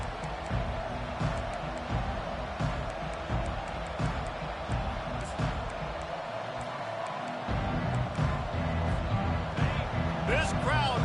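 A stadium crowd roars continuously in the background of a College Football 25 game between Georgia and Ole Miss, with a commentator talking over the broad, steady murmur and swells of cheering.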